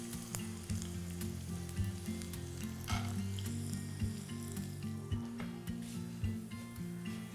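Peanuts frying in hot oil with crushed garlic for a spicy Bohri-style veg aloo dum biryani, giving a steady, loud, continuous sizzle with occasional stirring scrapes and a low hum underneath.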